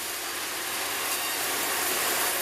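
A sawmill's fast-spinning electric saw cuts domestic hardwood logs for factory-built timber houses, making a loud, steady, dense rasping roar that holds evenly with no voices.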